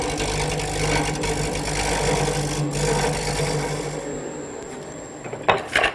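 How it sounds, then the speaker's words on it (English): A parting tool cuts wood on a lathe, giving a close, steady scraping hum with a low motor drone that tapers off near the end, followed by a couple of short knocks and no voices. "I'm going to use my parting tool to clean it up"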